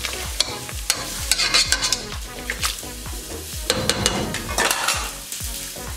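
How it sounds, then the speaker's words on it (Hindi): Sarson ka saag (mustard greens) being mixed in a pan: repeated clinking, scraping spoon strokes against the metal in an uneven rhythm over a low sizzle, close by and without speech. "इसको अच्छे से मिक्स कर लेंगे।"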